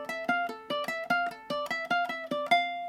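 Quick plucked guitar notes hop through a bright, bouncy melody at a fast steady pace, each note sharp and short, with no voices.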